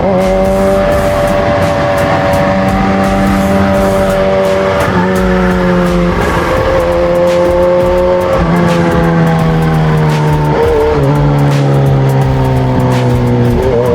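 A vehicle engine revving loudly up through the gears, its rising whine dropping at each shift, close and continuous under road noise.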